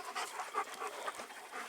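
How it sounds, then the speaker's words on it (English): Several dogs pant close by in quick, steady breaths, outdoors where a tree is about to be felled, with no talking over them. "Meanwhile, more dogs."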